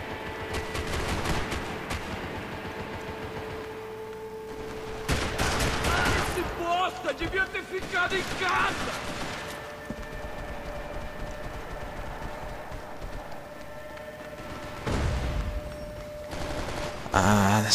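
Gunfire during a Max Payne 3 multiplayer match on Xbox Live comes in bursts of rapid automatic shots and scattered single cracks. It plays over steady game background noise, with louder volleys near the start and middle.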